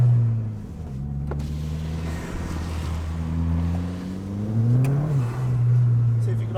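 A Ford Fiesta ST180 driving laps on a wet track day circuit, engine tones rising and falling through gear changes with tire spray hiss, voices talking over it inside the car.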